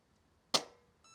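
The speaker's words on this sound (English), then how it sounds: "the electronics itself made a little beeping sound" A short, sharp click from the electronics of a cheap airsoft gun powered by a 7.4-volt LiPo battery, followed a moment later by a faint, thin electronic tone. Both sounds are heard alone in near silence.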